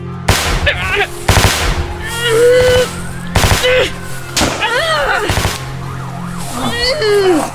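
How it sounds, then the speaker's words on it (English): Sharp bursts of gunfire crack out in loud rapid volleys, with voices shouting and talking between and beneath the shots. "gunshots erupted all around us"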